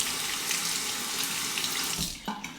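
Water runs steadily from a sink tap to rinse a razor, a close, continuous splashing rush with a small clunk near the end.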